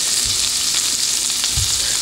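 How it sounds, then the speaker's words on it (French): Chicken livers fry in butter in a pan, giving a steady, loud hiss and sizzle with a couple of soft low thumps as they are stirred near the end of cooking; no one speaks. "On arrive en fin de cuisson de nos foies de volaille."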